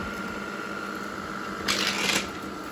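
A Shark IQ robot vacuum without a self-empty bin runs with a steady whirring drone, then a short burst of rattling, scattering debris rises over the motor for about half a second before fading back.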